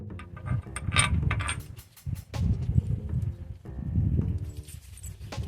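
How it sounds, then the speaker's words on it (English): Metal 24mm bolts clink and rattle as they drop into place on a Hendrickson drop axle during a kingpin bushing job, a string of sharp metallic knocks and clatters over a low mechanical background. "Let's go ahead and drop some bolts down there at the bottom"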